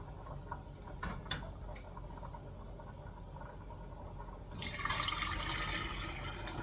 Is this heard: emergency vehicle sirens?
no